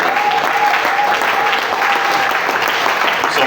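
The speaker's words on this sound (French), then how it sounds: "Est-ce qu'on peut encore acclamer Jésus?" A church congregation at a prayer day applauds steadily, a dense, loud wash of clapping with crowd voices mixed in throughout.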